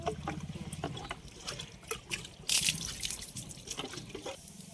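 Water splashes and drips during a child's bath at home, with irregular close splashes, trickling and one sharp loud splash midway, and a brief voice-like sound at the start.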